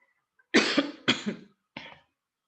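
Three coughs close up, the first two strong and rough, the last shorter and softer, separated by brief silences.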